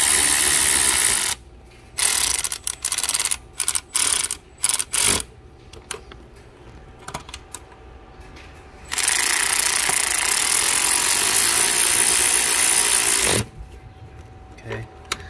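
An impact gun rattles in loud, hard bursts while working on a Lincoln MKS throttle part, short intermittent blasts early, then a long sustained run before stopping, with quiet gaps between.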